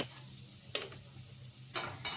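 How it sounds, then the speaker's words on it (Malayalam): A spoon stirs chicken curry in a clay pot over a low flame, giving quiet scraping and a soft simmering bubble, broken by a few brief louder scrapes. "ഇങ്ങനെ നമ്മൾ ലോ ഫ്ലെയിമിലാണെങ്കിൽ പോലും നമ്മൾ ഇടയ്ക്ക് ഇളക്കി കൊടുക്കണം കേട്ടോ"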